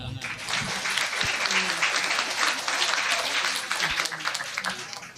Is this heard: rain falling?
no